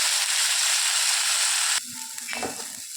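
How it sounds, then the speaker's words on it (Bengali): Cauliflower fries in hot oil in a pan, a loud, steady sizzle close by that drops off abruptly and gives way to quieter stirring and scraping. "ফুলকপিটাকে লাল করে ভালো করে ভেজে নিতে হবে"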